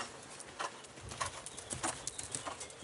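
A horse canters around a riding arena, its hoofbeats sounding as soft, fairly faint rhythmic thuds in an uneven three-beat pattern with no talk over them.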